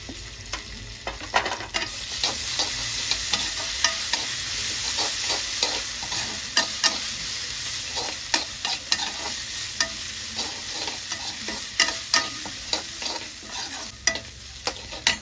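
Ginger paste sizzles and spits in a hot pan, with a steady fry hiss and a run of regular scraping stir strokes close by, no voices.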